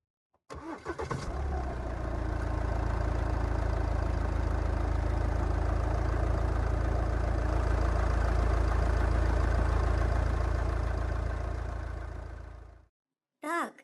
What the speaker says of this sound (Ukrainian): Звісно, це звук машини.